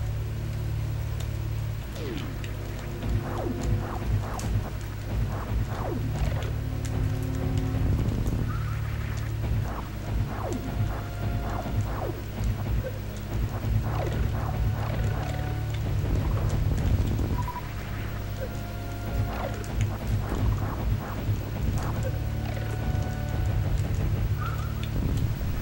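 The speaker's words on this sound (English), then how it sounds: "it's raining like a cocksucker outside" Steady heavy rain pours outside, a dense continuous hiss with scattered drops and low rumbling underneath, holding at an even level throughout without any talk.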